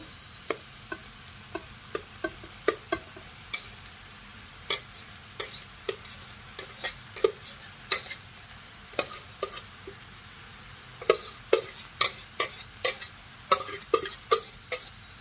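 Rice being stir-fried with vegetables in a pan for Chinese-style fried rice, with repeated sharp clicks of a spatula against the pan over a low steady sizzle, irregular and growing busier toward the end, no talk.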